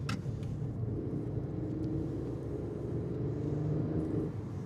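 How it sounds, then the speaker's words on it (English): A cheap used car is driven along a scenic country road in Denmark, its engine and tyre rumble giving a steady low drone from inside the cabin, with no voices. "the car still drives very nicely"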